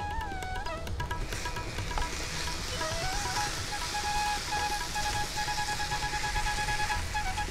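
Potatoes and masala sizzle and fry steadily in a pan for tandoori aloo masala, with small new winter potatoes; a constant close crackle carries faint tonal beeps and clinks over it, with no talking.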